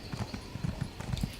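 Horse mount hooves in The Elder Scrolls Online, a quick steady clip-clop gait of hoof strikes, close and moderately loud, with no speech.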